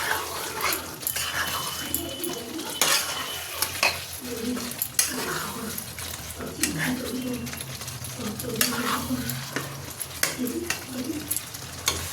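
Spices with Kashmiri chilli sizzle and fry steadily in a pan, a continuous close crackle with occasional stirring scrapes and clinks, while birds chirp in the background.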